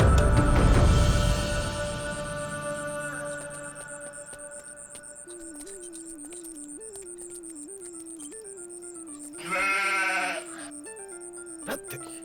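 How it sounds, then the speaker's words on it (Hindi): Goat bleating in a dubbed Hindi action film, a wavering cry over a loud opening burst and a steady background tone, with a second louder bleat near the end. "बकरी की चिल्लाने की आवाज आ रही है"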